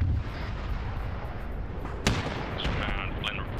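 Booming airstrike explosions in the Arma 3 video game, heavy low rumble with a sharp blast near the middle, over continuous background noise.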